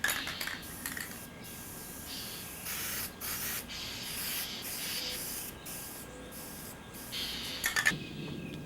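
Primer being sprayed onto plasterwork in bursts of hissing aerosol spray, several short and longer blasts separated by brief pauses, close and fairly quiet, with a few small clicks near the end.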